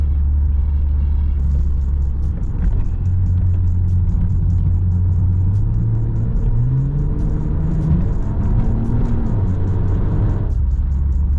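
A BMW E39 with the M50B30 straight-six engine driving on the road, a steady loud cabin rumble with engine pitch rising and falling through gear changes, plus a faint rhythmic ticking.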